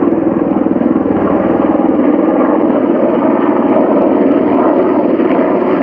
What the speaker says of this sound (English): See helicopter there, look at that beast.